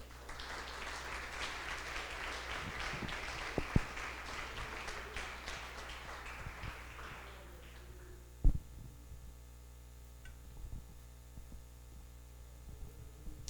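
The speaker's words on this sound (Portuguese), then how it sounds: "Aplauda o Senhor, querido." Faint congregational applause for the Lord at a church service, a soft patter under a steady electrical hum that dies away after about seven seconds, leaving the hum and a few scattered knocks.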